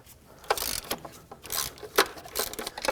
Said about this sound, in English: then I'll just run them out with my air ratchet